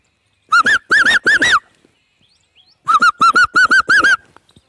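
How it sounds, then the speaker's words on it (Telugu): A koel gives bursts of rapid bubbling kuhu notes, two loud close runs separated by a brief pause, with nothing else audible. "దాని తర్వాత ఇదే కుహు కుహు కూడా అంటుంది"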